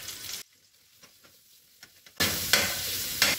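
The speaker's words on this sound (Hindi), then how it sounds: "एकदम मीडियम आंच पे हम लोग उसको सौते करेंगे।" Garlic sautéing in a tablespoon of oil over medium heat makes a bright sizzle that cuts out for a stretch of quiet, scattered stirring taps, then surges back loudly with further scraping strokes in the pan.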